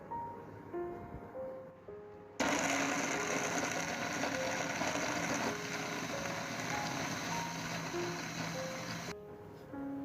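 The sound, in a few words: blender blending mango pulp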